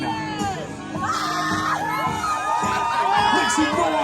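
A downtown crowd at a pupusa eating contest in Santa Ana, California shouts, whoops and cheers loudly and continuously, with children's high voices mixed into the roar.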